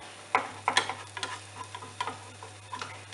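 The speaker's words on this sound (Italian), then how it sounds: "In una padella calda unta di burro, mettete il formaggio grattugiato, parmigiano." Grated parmesan browning in a hot buttered pan into a crisp wafer, with soft, irregular crackles and little ticking pops spread across a quiet background.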